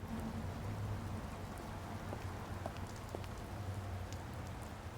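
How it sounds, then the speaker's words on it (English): Steady rain falls on the streets of Paris in the Secret Files 2: Puritas Cordis adventure game, a dense, even hiss of drops with a few sharper patters, continuous for several seconds with no voices. "I've seen like rain like that before, where it rains like on one side and not the other."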